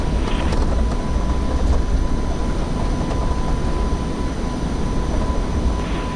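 An F-5E jet taking off in the combat flight simulator Digital Combat Simulator, a steady loud roar of jet engine noise filling the whole stretch with no letup.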